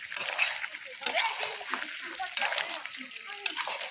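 Beef trotters, head skin and ears frying and being stirred in a pan over a clay stove, a continuous crackling sizzle with scraping stir strokes and occasional louder splatters.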